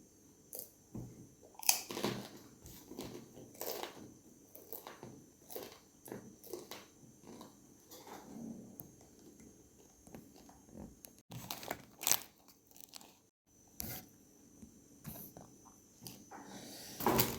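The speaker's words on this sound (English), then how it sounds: "I'm here eating some Redherring and crackers with tomato, scotch bonnet pepper" Someone eats red herring with crackers, tomato and scotch bonnet pepper, close to the microphone: sharp intermittent crunches and crinkles between quieter chewing, spread irregularly across a quiet room.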